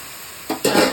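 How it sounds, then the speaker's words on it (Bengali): Mustard leaves tossed into a dry wok, a near silence broken by two quick rustling, scraping stirs with a light sizzle, close and loud, no voices. "সর্ষে পাতাটাকে প্রথমে শুকনো কড়াইতে দিয়ে"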